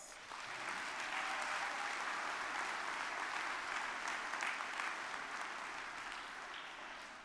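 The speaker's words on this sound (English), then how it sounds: "Please join me in giving yourselves a round of applause." Graduates applauding themselves at a university commencement ceremony, a large crowd clapping in a steady, dense wash that builds quickly after a brief pause and holds evenly, tapering slightly at the end.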